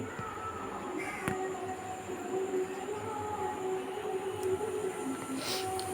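A train runs steadily with a continuous rumble, rail hiss and a faint wheel squeal, loud and close, with no talking.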